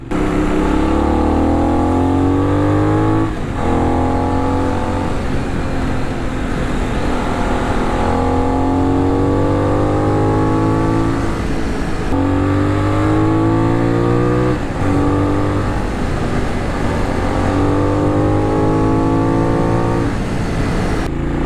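A 2022 Benelli 752S motorcycle engine runs steadily and loud while being ridden, with repeated rising rev sweeps through the gears and brief drops at each shift, close up and continuous with no talk.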